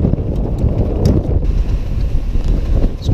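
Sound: strong gale wind at sea on a sailboat

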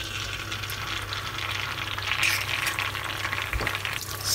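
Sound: egg frying in olive oil

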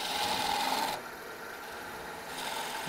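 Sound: wood turning gouge cutting on a lathe

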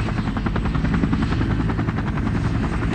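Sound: UH-1 Huey helicopter flying

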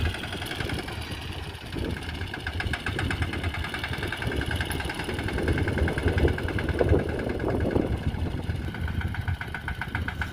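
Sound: tractor engine running

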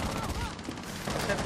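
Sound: gunshots in Rainbow Six Siege video game

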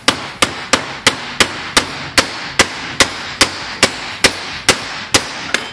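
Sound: hammer tapping socket to seat engine seal

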